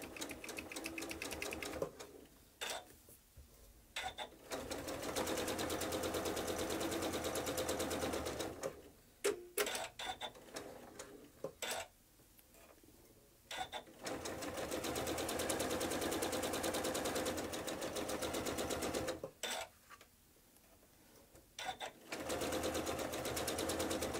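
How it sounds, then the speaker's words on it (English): A sewing machine stitches a seam on a Churn Dash quilt block, running close and steady in several long bursts separated by brief stops. "I'm going to sew this seam."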